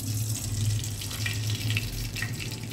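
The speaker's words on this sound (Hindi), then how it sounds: "इसमें ऑयल डाल रही है" Cooking oil pours into a pan for macaroni pasta, making a soft, continuous liquid trickle that is steady and fairly quiet, with no voices over it.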